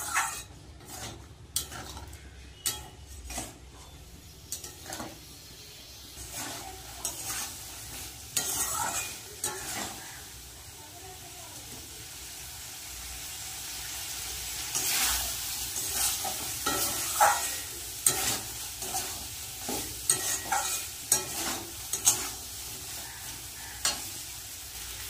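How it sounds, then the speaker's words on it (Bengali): Boiled peas stir-fried with spice masala in a pan for a vegetarian ghugni, with repeated spatula scrapes and knocks against the pan over a low sizzle, irregular strokes bunching in bursts, no voices. "ভালো করে মটর দিয়ে মশলা দিয়ে ভালো করে কষিয়ে নেব।"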